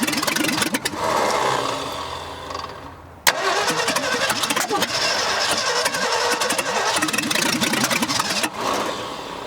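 A 1965 Ford F100 pickup engine cranks repeatedly, catches with a rough sputter, stalls, then churns again in loud, uneven bursts of starter whir and coughing.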